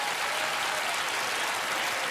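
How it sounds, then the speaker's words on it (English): An audience at a magic show applauds steadily, a dense wash of many hands clapping at even volume throughout, somewhat distant and with no voices standing out. "You can applaud for her as she does."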